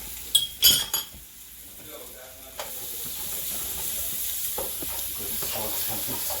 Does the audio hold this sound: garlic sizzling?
yes